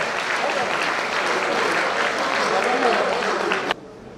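Sustained hand clapping from a conference audience fills the room, a thick, even wash of applause that cuts off abruptly near the end, leaving quiet room tone.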